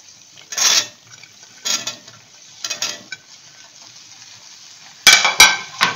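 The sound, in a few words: okra frying and being stirred in oil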